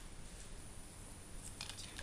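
Scissors snip through paper with a few quick, faint cuts toward the end, close by in a quiet room under steady background hiss.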